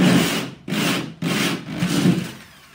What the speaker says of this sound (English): And it's as simple as that to cut the hole.